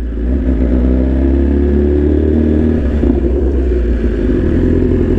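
BMW S1000RR M Carbon sport motorcycle engine running loud and close, a steady low drone with slight rises in revs throughout and no talk over it.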